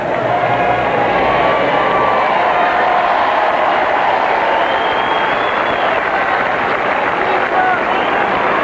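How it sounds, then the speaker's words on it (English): A sellout stadium crowd at the US Open tennis championship in New York gives a sustained, loud roar of applause and cheering for Jimmy Connors on his 39th birthday, a dense wash of clapping throughout. "So the sellout crowd with a happy birthday for Jimmy on his 39th birthday."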